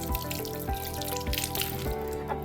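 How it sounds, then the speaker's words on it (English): Running tap water during handwashing, a steady close trickle with recurring drips and splashes, moderately loud and without voices. "first, wash hands with water"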